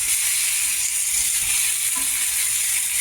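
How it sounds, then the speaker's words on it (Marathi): Eggplant sautéing in hot oil in a home kitchen pan gives a steady, even sizzle and crackle that runs throughout, close and alone with no talking. "चांगलं परतून घेऊया."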